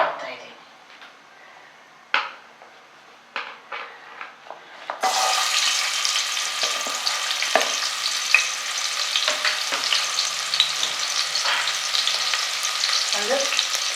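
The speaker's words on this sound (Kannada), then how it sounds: "ಒಗ್ಗರಣೆ ಹಾಕ್ತಾ ಇದ್ದೀನಿ." Lentils and green chillies are tempered in hot oil in a pressure cooker: a few sharp taps and clinks lead to a sudden loud, steady sizzle that crackles on continuously for the rest of the clip.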